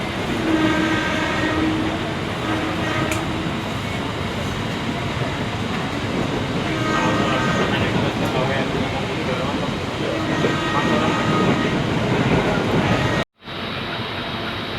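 A KRL commuter train leaving Jurangmangu station near Jakarta, with a steady loud rumble and hiss of rolling stock, faint tonal whines and a possible horn, plus talk in the background.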